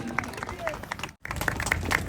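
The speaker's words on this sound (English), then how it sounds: "Big round of applause for Aki" A rally crowd claps and applauds for a poet, a brief dense patter of hands with a short gap, voices murmuring underneath.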